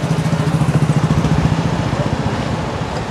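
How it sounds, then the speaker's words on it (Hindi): A new Honda Dio 125 scooter cranks without catching, a loud, close, rapid rhythmic chugging from the starter that keeps going steadily and then slowly fades. "तो आप देख रहे हैं स्कूटर स्टार्ट नहीं हो रहा है।"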